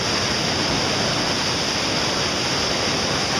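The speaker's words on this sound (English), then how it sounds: "That is Grand Fort Rapid." Rushing river rapids at Grand Fort Rapid on the Russell River roar as a steady, loud, broadband wash of water, close and continuous, with no voices.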